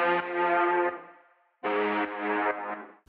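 Low synth layer of a lead patch made from unison saw waves in Serum: two sustained buzzy chords with a slight wobble, the first fading out before the second enters, moderately loud with nothing else present.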